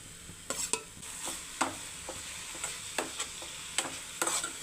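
Red spinach frying in a pan with coconut, garlic, chilli powder and cumin, a steady soft sizzle broken by repeated scraping stirs of a spoon against the pan, close and moderately loud, with no voices.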